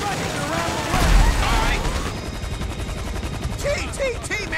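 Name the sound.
gunfire in a video game, Grand Theft Auto V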